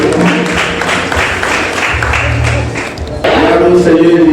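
Audience applause at a ceremony in a church temple, a dense, steady clatter of many hands that carries through the whole stretch and swells again near the end, with some voices mixed in.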